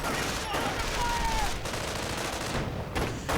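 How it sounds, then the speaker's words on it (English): Automatic machine gun fire in a real-time strategy battle, a steady dense rattle of shots running through the whole stretch amid other battlefield noise, with a commentator talking over it. "MG firing away, 6 kills, Rifle 7."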